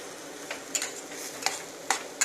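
Pav bhaji ingredients being stirred in a hot sizzling pan, with a soft continuous fry hiss broken by several brief scraping clicks of the spoon, close and fairly quiet.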